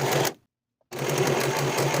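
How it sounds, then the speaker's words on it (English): Close, fast whirring of a sewing machine stitching fabric straps for a halter dress, with one brief stop and silence before the machine starts running again. "we're going to sew each of them with a 1/4 inch seam allowance, sewing one of the short ends and the full long edge for both straps"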